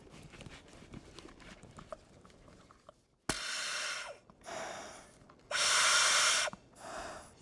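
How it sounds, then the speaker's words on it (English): A firefighter's positive pressure breathing apparatus supplies air through the mask, giving several loud, hissing breath bursts of varying length after a quieter opening. "I'm going to go on air here and you'll hear it when I start breathing,"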